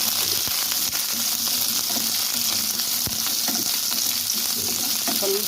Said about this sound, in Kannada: ಸ್ವಲ್ಪ ಹಿಂಗೆ ಹುರ್ಕೊಳ್ಳೋಣ ಎಣ್ಣೆಯಲ್ಲಿ